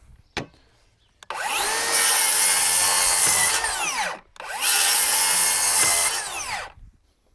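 DeWalt rear handle circular saw makes two loud cuts through wood, each burst spinning up, whining steadily through the board for about two seconds and winding down, separated by a short pause.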